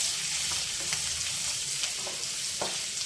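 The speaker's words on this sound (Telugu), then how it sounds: "పచ్చిమిర్చి అవి వేసుకున్నాం కదా." Chopped ginger, garlic and green chillies fry in a pan for semiya pulao, a continuous close sizzle with faint stirring scrapes and no voices.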